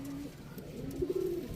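Pigeons at a breeder's loft coo close by, a few soft, throaty coos swelling near the end over a low background hum.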